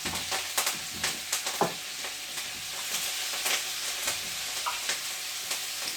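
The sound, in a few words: onions frying in a pan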